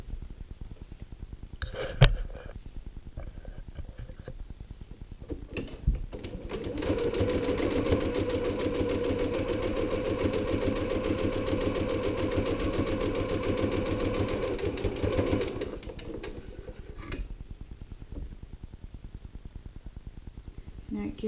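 A sewing machine stitches across the lip of a tote bag's interior pocket, running in one steady, continuous burst of about eight seconds after quiet handling noises.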